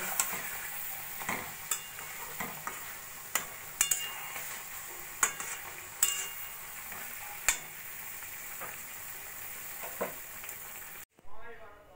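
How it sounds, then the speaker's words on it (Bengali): Sesame-paste flat bean curry (shim jhal) with chopped coriander is gently stirred in a pan, giving a steady sizzling fry with repeated soft scrapes and clinks of the spoon before the sound cuts off near the end. "দিয়ে আস্তে করে নাড়াচাড়া করে আমি গ্যাসটা বন্ধ করে দেব"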